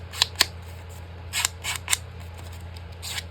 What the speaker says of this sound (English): I need my scissors.